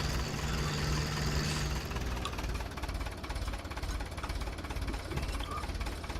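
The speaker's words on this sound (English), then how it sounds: "Tractor's pulling it okay, but I'm surprised it is." A tractor engine labors steadily while pulling a load, a fairly quiet, continuous rhythmic chugging drone with a throbbing pulse throughout and no talk.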